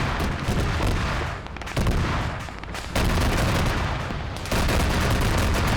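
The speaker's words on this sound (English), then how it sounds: "He's going to hear that autocannon." Marauder autocannon firing in a combined-arms military video game battle, a loud, dense rattle of rapid heavy shots coming in repeated bursts with short gaps between them.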